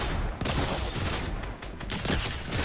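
Fortnite shotgun blasts fired repeatedly in quick succession, loud, harsh and close, with dense game noise between shots and almost no talking.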